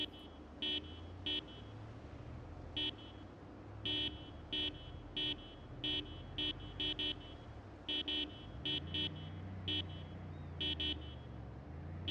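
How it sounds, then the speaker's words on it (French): A car horn honks in a long run of short, sharp toots, some in quick doubles and triples, in a zombie-infested city neighbourhood, over a low rumbling background. "Rien de plus efficace que le klaxon."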